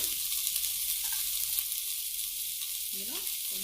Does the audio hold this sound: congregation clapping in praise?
no